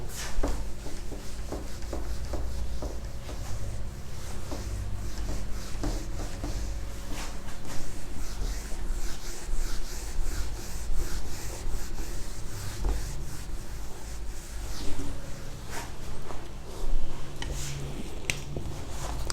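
Duster or cloth rubbing chalk writing off a board, a steady scraping and wiping that continues for the whole stretch at close range, with no voice.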